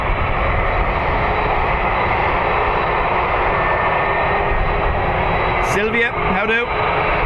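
An Aer Lingus jet airliner roars down the runway on its takeoff roll toward Heathrow, a loud continuous broadband rumble that fills the whole clip, with a brief voice breaking in near the end.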